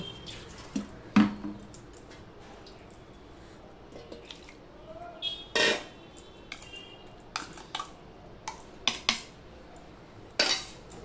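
A bowl clinks and knocks in a kitchen sink with scattered water drips, short close handling sounds separated by quiet gaps, while poha is prepared.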